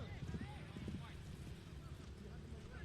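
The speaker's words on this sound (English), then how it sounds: "Getting there first is that black horse, Escalanita" Hooves of polo ponies thudding on turf during a polo match, a quick galloping patter under a busy crowd and a commentator's voice, the hoofbeats fading after the first second.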